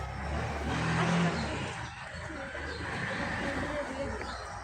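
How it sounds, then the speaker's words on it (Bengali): A CNG auto-rickshaw pulls up with a steady, rough engine drone close by, mixed with people chatting over it throughout. "সিএনজি চলে এসেছে"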